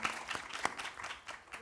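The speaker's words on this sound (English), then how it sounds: "Please, a big round of applause for our presenters today." An audience at a sustainability leadership event applauds its presenters, a short faint patter of scattered hand claps heard from a distance.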